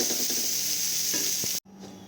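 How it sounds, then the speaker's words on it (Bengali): Broccoli florets fry in hot oil in a kadai with a loud, bright, continuous sizzle and a few stirring scrapes, then the sizzle cuts off abruptly and a quieter hiss follows. "তো দেখো ব্রকলিগুলো হালকা ভাজা ভাজা হয়ে গেছে"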